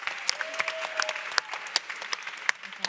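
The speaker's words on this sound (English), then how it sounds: "how about a round of applause for Dom?" A conference audience applauds for an event organizer, a moderately loud crowd clap with distinct sharp individual claps standing out over the steady patter.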